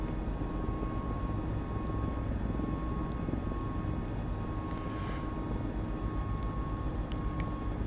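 A Mil Mi-17 V-5 helicopter flies low over trees in Microsoft Flight Simulator, a loud, steady rotor and turbine drone that stays constant throughout with no voices.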